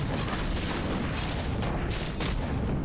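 Warcraft III mortar teams fire artillery in a dense, continuous rumble of booming blasts that layer into a thick, loud wash of explosions with no talk over it.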